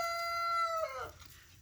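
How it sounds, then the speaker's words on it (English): A hen called Jackie gives a drawn-out, close vocal call that holds steady and then trails off into a low throaty cluck, faint background behind it. "Just keep clucking along now."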